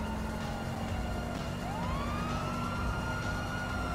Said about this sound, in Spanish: Lo quité la sirena, Germán.